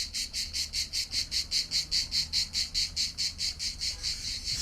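A loud insect, likely a cicada, chirps in summer heat in Paphos, Cyprus, a fast steady pulsing rhythm about four pulses per second, close by and alone.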